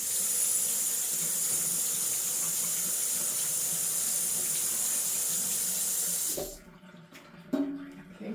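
Hands are rinsed under a running tap after cookie decorating with royal icing, a steady close hiss of water that stops abruptly, followed by a few faint clinks and handling sounds.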